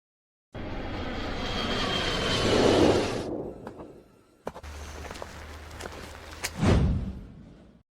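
Airplane engine roaring steadily at moderate loudness, swelling then fading, followed by quieter thuds and a brief low rumble near the end; no talk.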